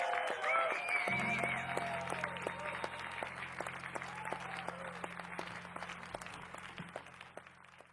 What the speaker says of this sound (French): Beaucoup d'applaudissements.